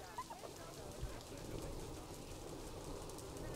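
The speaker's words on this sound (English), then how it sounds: "It's raining." Steady rain falls in the zoo-building game Planet Zoo, a constant hiss of fairly quiet patter with no clear breaks, running evenly from start to finish.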